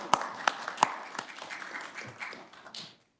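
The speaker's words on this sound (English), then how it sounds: "I'll clap for you." Scattered clapping breaks out in a legislative education committee hearing room to welcome a guest: a few sharp claps up front, then a softer patter of hands that fades out within about three seconds.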